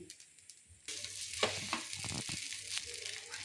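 A dosa frying on a hot pan sizzles loudly, the crackle bursting up suddenly after a quiet start and then hissing steadily with a few sharper pops.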